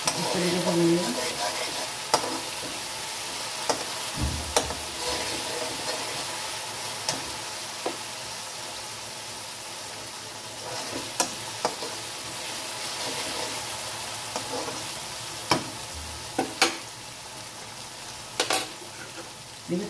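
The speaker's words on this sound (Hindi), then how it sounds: "तो जल्दी ही मैं कढ़ाई में मसाला भून रही हूँ।" Masala of chopped onion with tomato and garlic paste fries in oil in a kadai, a steady soft sizzle with occasional scraping stirs of a spoon, moderately close and with no talk.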